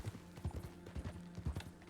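Horse hooves clip-clop in steady, close rhythmic beats in a ranch roleplay video game, with a few soft low thumps between steps and no talking.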